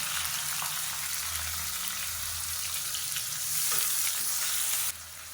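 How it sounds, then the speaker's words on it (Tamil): Onions sizzle and crackle steadily in hot oil, close and continuous, with a brief stir partway through before the sizzle settles slightly quieter. "வெங்காயம் நல்லா வதங்கிட்டு இருக்கு"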